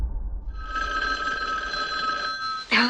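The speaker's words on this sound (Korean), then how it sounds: "단짝 친구는 안부 전화를 하는데요." A telephone bell rings steadily and loudly for a couple of seconds, a sustained metallic trill with no talk over it, cutting off near the end into a brief different sound.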